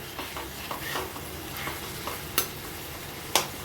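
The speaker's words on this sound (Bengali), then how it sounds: "আলুগুলো কষিয়ে নিচ্ছি" Potatoes stir-fried with spices and panch phoron in a pan, a soft continuous sizzle broken by light scraping stirs and two sharp utensil clacks, fairly quiet and close.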